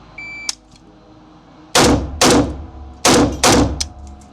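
Four sharp, loud rifle shots from a PSA Krink in 5.45x39 with a pistol brace, fired in two quick pairs after a faint earlier click, each crack trailing off briefly.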